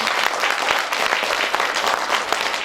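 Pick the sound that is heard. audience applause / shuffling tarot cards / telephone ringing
audience applause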